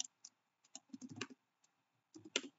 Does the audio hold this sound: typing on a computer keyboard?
yes